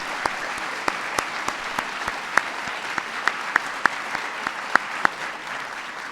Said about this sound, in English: let's give a big round of applause to my military aide